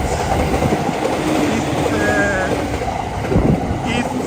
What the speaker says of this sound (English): a train is passing me this closely